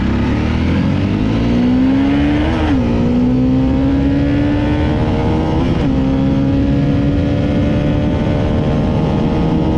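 A dual sport motorcycle pulls away and rides off, its engine loud and close, rising and shifting through gears with a steady drone between, heard alone with no talk.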